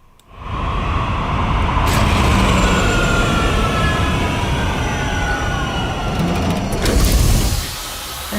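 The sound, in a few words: custom sci-fi ship powering off sound effect for Gameglass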